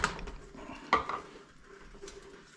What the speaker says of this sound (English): Try to mix it in real good.